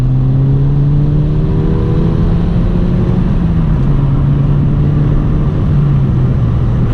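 A 2016 Ford Fiesta ST accelerates hard from the cabin, its engine droning loud and steady as the pitch rises and dips slightly through the run, with no talk.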